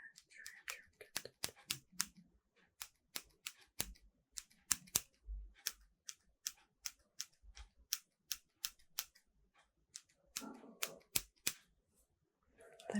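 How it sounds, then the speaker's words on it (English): Scissors trim hair up close in a soft-spoken ASMR haircut roleplay. Quiet, crisp snips come in quick irregular runs, with occasional soft handling sounds between them. "Then we're gonna trim it."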